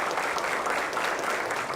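Steady applause in a Brazilian legislative assembly paying tribute to a murdered lawyer, a dense wash of many hands clapping at an even level throughout with no talk.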